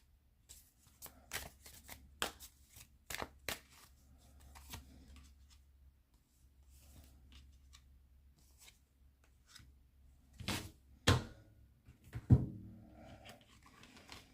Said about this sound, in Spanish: Acomodar aquí las cartas un momentico.